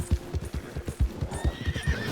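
Horses in the video game Red Dead Online clop steadily on hard ground in a quick, even rhythm, close by, and a neigh rises near the end over the hoofbeats.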